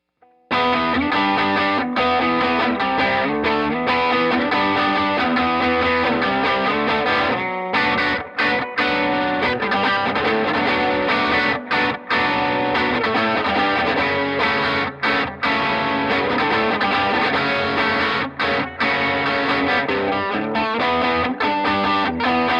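Loud, dense electric guitar riffing through a Harby Noble Tone pedal on its overdrive setting, played close with a thick, saturated tone and only a few brief gaps over a long continuous passage.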